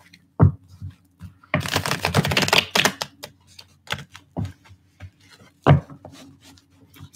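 Tarot cards being shuffled by hand, a dense riffling burst of papery flicks in the middle, flanked by a few sharp isolated taps and soft rustles, close and alone with no voices.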